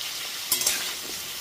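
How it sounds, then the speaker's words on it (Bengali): Cut cauliflower pieces sizzle in a pan for a festival-offering labra. A brief scrape-and-stir burst rises midway over the steady frying hiss. "এরপর এতে দিয়ে দিচ্ছি কেটে রাখা ফুলকপি টুকরোগুলো।"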